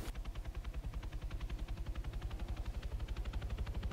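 A helicopter in the military video game ARMA 3 keeps up a steady rapid rotor chop, each beat clear and loud over a constant low engine drone, with no talk.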